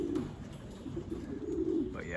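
Racing pigeons coo nearby in a loft, a soft, continuous throaty warble that rolls on and off steadily, with no voices.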